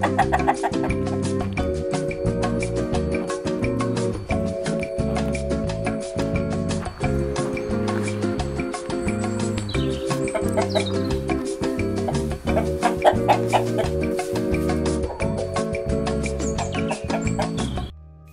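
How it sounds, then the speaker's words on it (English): Chickens cluck steadily throughout, close by, over a constant rhythmic musical backing. "Here's Chippy, who hatched from an egg under a broody hen here last year"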